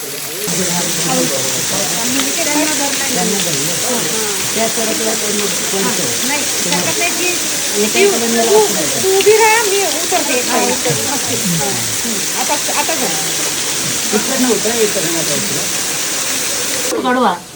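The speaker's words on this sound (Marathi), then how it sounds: "कसलं पाणी पडतंय वरून" Water pours down from above at a cave where people live, in the Fopsandi area, making a steady, close rushing and splashing wash that runs without a break under ongoing talk.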